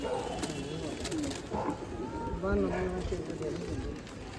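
Racing pigeons arrive at a pigeon club tournament in Amritsar, with soft cooing and fluttering under near, continuous talk and background crowd noise.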